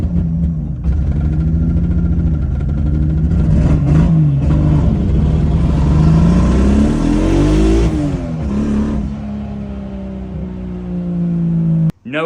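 A drift car's engine revs hard during a pull, loud and close, the pitch rising and falling through several sweeps before settling, then cutting off abruptly at the end.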